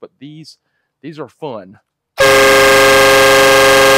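A train horn fitted to a golf cart with a built-in compressor and no air tank blasts loud and sustained at close range, right after someone speaks briefly.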